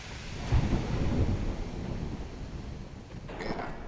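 Thunderstorm with rain at sea in the Ultimate Admiral Dreadnoughts naval video game: a low rolling rumble of thunder over a steady wash of rain, moderately loud, swelling early and again near the end.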